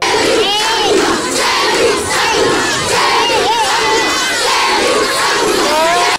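A large crowd of school pupils cheers and shouts in jubilation outdoors at a school under rehabilitation, a loud, dense and continuous roar of young voices with high excited yells rising above it throughout.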